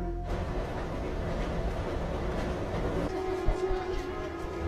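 Steady low rumble and hum inside a moving passenger train, a continuous mechanical drone with a faint tone shift and a soft knock near the end, no voices over it.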